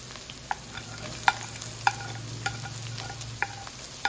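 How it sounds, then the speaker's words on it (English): Garlic and onions sauté in a pan for Filipino-style picadillo beef stew, a soft continuous sizzle broken by sharp, regular scrapes and taps of stirring, close and fairly quiet. "And just sauteed until golden brown."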